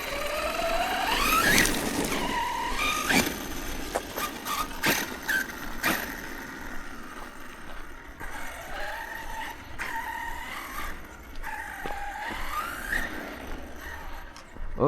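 An ARRMA Notorious RC car revs hard in repeated whining bursts, its electric motor pitch sweeping up and down as it speeds along straights outdoors, loud and near with squealing highs and clattering hits between runs.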